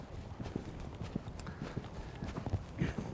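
Horse hooves striking the ground while being ridden, a quiet, rhythmic clip-clop of footfalls at a steady gait, heard from a moderate distance.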